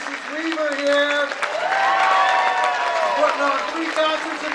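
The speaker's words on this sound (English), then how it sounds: "How about a round of applause for Mrs. Weaver here?" Steady applause from an audience at an elementary school third grade concert, moderately loud and continuous, with speech and crowd voices heard over the clapping.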